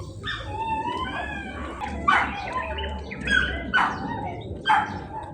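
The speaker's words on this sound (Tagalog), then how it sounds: "Mga aso dyan." Several dogs barking and yipping in a village outdoors, a few loud barks close by over a steady low background rumble.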